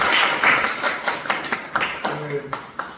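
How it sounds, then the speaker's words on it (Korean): A church lecture audience breaks into clapping, a loose scatter of claps that thins into sparse separate hits, with a voice talking over it toward the end. "예, 박수."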